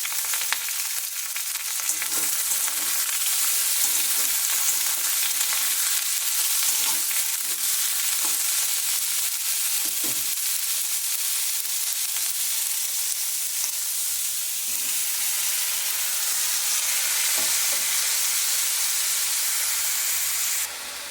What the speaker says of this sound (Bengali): আমি গেঁড়িগুলো সবজির সাথেই ভেজে নেব একসঙ্গে।